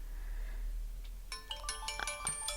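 A cellphone plays its electronic ringtone, a bright melodic series of tonal chimes that starts after a quiet moment and repeats in a quick pattern, moderately loud and close.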